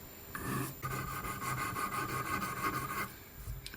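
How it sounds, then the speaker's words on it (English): A No. 4 Swiss cut file wrapped in 400 grit emery cloth rubs back and forth over a metal chamfer edge, giving a close, steady rasping scrape in repeated strokes with no talking. "I roll the file with the emery cloth a little bit over the edge of the chamfer"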